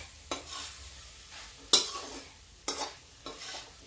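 Turnip and pea curry frying in a pan gives a low steady sizzle, broken by four sharp bursts of stirring and scraping, each fading quickly back to a quiet hiss.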